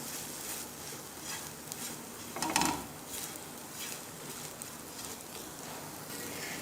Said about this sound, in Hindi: इसी तरह से हम अच्छी तरह से इसे मिक्स कर लेंगे।